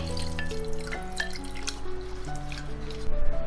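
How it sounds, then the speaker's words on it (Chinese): Herbs and their soaking water are poured into a ceramic stew pot, giving a soft, close trickle with light drips and splashes over a quiet background of steady tones. "接着把太子参跟独角精连水一起倒进来"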